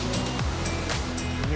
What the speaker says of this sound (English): Visitors can enjoy the spectacle of the waterfall